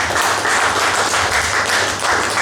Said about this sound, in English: Once again, a big round of applause for Bridg.